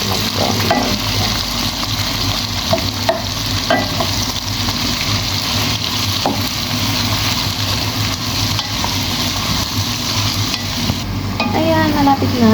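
Chopped onions sizzle in a pan while being sautéed until brown for chicken biryani, a steady close frying crackle with occasional stirring scrapes and no talking.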